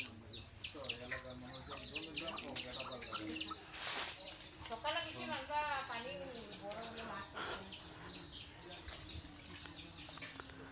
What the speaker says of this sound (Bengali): অনেকগুলো, দেশি মুরগি সব।